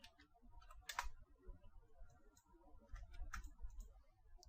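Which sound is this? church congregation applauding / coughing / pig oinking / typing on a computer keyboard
typing on a computer keyboard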